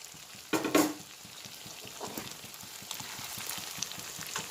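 Chicken frying in a pan gives a steady close crackle and sizzle throughout, with a louder burst of spattering early on and lighter stirring scrapes later.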